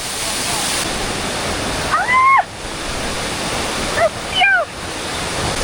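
A waterfall roars loudly and continuously at close range, a dense unbroken rush, while voices speak over it in Spanish.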